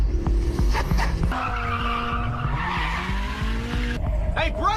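Racing car from the film Initial D accelerating and skidding, with drawn-out tire squeals and a rising engine whine, close and loud, overlaid by tense music.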